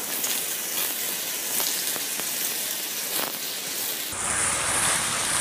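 Tofu frying in rapeseed oil in a wok gives a dense, continuous close sizzle with crisp spattering pops, growing brighter and hissier near the end.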